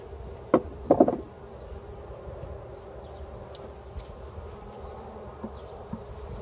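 Honeybees buzzing around an open hive during a summer inspection, a soft steady hum throughout with a couple of sharp knocks near the start.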